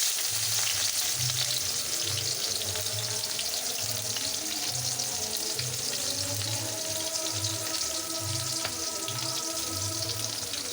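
Malabar spinach (pui shak) cooking in a pan, a continuous loud sizzle and hiss with a repeating low rumble underneath throughout.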